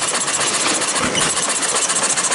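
A hit 'n miss engine runs up close, powering ice cream churns through a slowing gear mechanism, its steady mechanical chugging and clatter filling a short stretch without speech.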